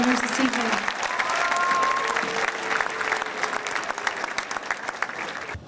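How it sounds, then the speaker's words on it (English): A high school awards night audience applauds the evening's winners with full, sustained clapping from a sizable crowd. It swells and thins slightly but carries on throughout, with a brief tone and murmur near the start. "Let's give another round of applause for all of the winners this evening."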